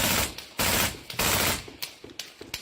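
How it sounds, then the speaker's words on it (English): Automatic gunfire in the Ukraine war comes in several sharp bursts of rapid shots with short gaps between them and echoing tails. Nobody talks over it. "Now we can see them firing into the distance on automatic."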